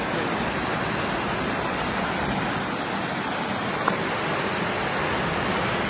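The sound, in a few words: waterfall on an icy creek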